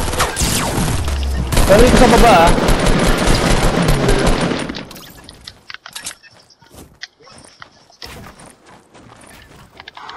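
Loud, dense bursts of rapid automatic gunfire in the video game Fortnite crackle for several seconds, then fade to scattered quieter shots, with voices talking over the game sounds.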